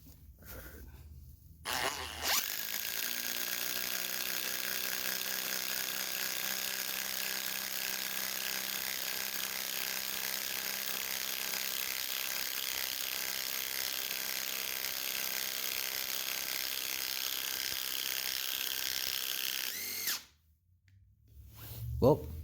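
A modded Ryobi PBLID02 impact driver with a 1/2-inch anvil and an impact-rated 13 mm socket drives a 5-inch 5/16 lag bolt into wood, hammering loud and continuous for about eighteen seconds before stopping abruptly.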